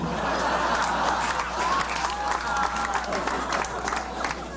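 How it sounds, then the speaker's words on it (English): An overflow crowd of ticket holders outside a pavilion claps and cheers at play resuming, a steady wash of applause and scattered shouts with some speech mixed in. "the overflow crowd of ticket holders outside of the pavilion are signaling their pleasure at the resumption of play"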